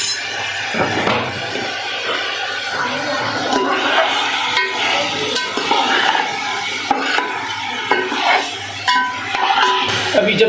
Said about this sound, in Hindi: अभी जब तक चिकन फ्राई होता है ज़ीरे और इसमें प्याज में ऑयल में